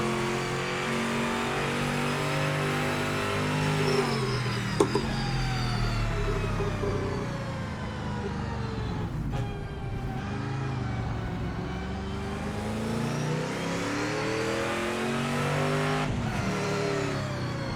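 A race car with no traction control or ABS laps a test track mod in Project Motor Racing, its engine revving hard and continuously, pitch climbing and dropping with sharp gear changes, loud and close with no talk.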